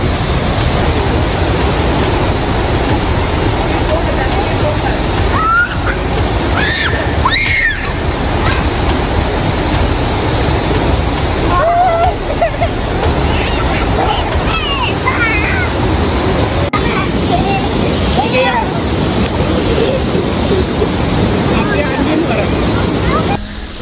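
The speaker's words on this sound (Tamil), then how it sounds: "கொஞ்சம் வாட்டர் ஃப்ளோவும் பெருசாக இருக்கு. ரொம்ப வேகமாக வருது." A strong, fast-flowing cold stream at a campsite in Japan rushes in a dense, constant roar of water, loud and close, with faint voices now and then under the noise.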